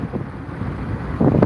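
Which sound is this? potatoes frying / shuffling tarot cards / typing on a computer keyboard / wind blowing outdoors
wind blowing outdoors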